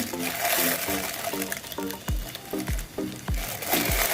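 Baking soda fizzing as it reacts with acid in a glass and releases gas: a steady close hiss with bubbly crackle running through the whole stretch, with no talking.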